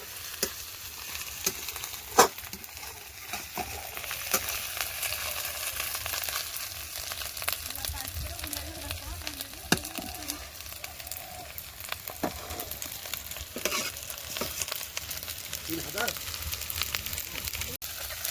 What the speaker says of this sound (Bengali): দেখো না মশলা ভাজা হয়ে গেছে